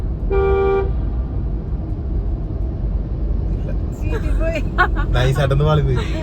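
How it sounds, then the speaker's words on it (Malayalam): One short car horn toot sounds up close over a low engine rumble in Kashmir, then a person talks near the end. "ഇപ്പൊ നമ്മുടെ വണ്ടി ഹോൺ അടിക്കും"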